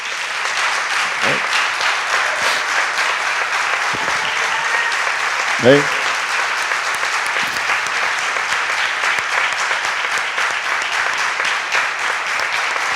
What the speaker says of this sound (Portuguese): Agora a comunidade local vai aplaudir a Jesus pela vida de vocês.